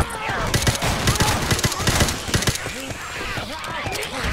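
Rapid, dense gunfire from Left 4 Dead 2 on Realism Expert, with a suppressed AK-47 among the weapons, cracks out in close, overlapping bursts for the whole stretch while a voice talks over parts of it.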